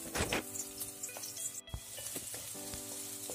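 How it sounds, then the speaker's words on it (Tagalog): Garlic sizzling in hot oil in a pan as the base for spicy chicken feet, a steady crackling fry with a few light stirring scrapes, close and fairly quiet, no voices. "Ating gisa ang ating bawang."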